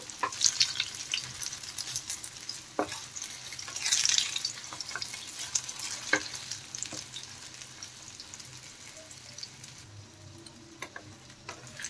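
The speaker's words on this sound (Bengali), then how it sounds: "উল্টে পাল্টে লাল লাল করে একটু ভেজে নিতে হবে" Momos for chilli momos frying in oil in a pan, a quiet steady sizzle with scattered light pops and occasional clinks as they are turned.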